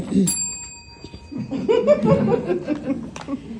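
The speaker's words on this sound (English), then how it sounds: "Once that 3 minutes is up, we will ring a bell. Ring that bell." A timekeeper's bell rings once at a town hall meeting, a bright sustained ring near the start that fades under murmuring, laughter and chatter from the audience.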